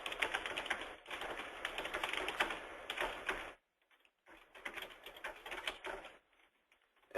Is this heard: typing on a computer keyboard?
yes